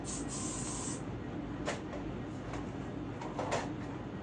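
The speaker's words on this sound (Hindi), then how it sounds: "हेयर स्प्रे करोगे इस पे" Hair spray hisses onto hair while a sleek low bun is styled, a steady aerosol hiss with a few short sharper bursts, close and without talk.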